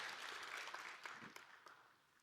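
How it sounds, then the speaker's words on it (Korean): A church congregation applauds during a Sunday service. Steady, faint clapping runs throughout and slowly fades. "우리 하나님께 영광의 박수 한번 올려드리고요"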